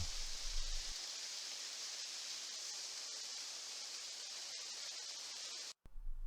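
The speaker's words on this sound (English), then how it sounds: "the beck falls 22 metres down a ravine at the waterfall known as Ira Force" Aira Force waterfall in the Lake District, where a beck drops 22 metres down a ravine, gives a steady, full rushing roar that holds unbroken for several seconds before a sudden brief cut near the end.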